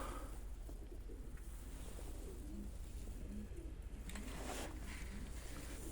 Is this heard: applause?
no